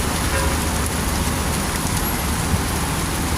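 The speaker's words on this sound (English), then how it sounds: "you see a lot of rain coming down now" Heavy rain pours steadily on Westchester Avenue in the Bronx, New York City, a dense unbroken hiss with faint road traffic rumbling underneath.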